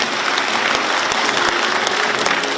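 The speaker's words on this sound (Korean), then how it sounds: "박수로 환영해 주시기 바랍니다" Steady, dense applause from a large indoor audience welcoming guests at a book launch event, continuous and fairly loud with no talk over it.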